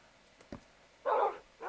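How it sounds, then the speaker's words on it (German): Dogs in the video game Minecraft give a couple of short barks, one brief yip followed by a fuller bark, fairly faint against a quiet background. "Und jetzt spawnen auch noch die Hunde zu mir."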